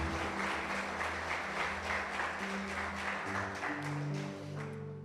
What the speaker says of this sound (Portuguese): Nós vamos dar uma forte salva de palmas para todos os pais e mães.